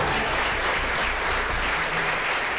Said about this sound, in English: You better give them all a big round of applause.